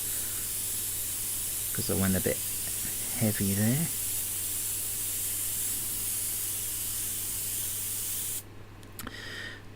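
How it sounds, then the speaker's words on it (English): An airbrush blows plain air with no paint to dry a freshly sprayed layer on a painted figure, giving a steady hiss under a low hum, with brief speech and a sharper burst of air near the end. "I'm just using the air on the airbrush to dry that off"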